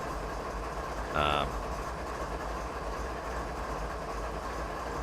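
Train rolling on rails in Train Simulator 2019, a Canadian Pacific freight on a winter night heading westbound toward Field, gives a steady low rumble throughout, with a brief louder tonal burst near the start.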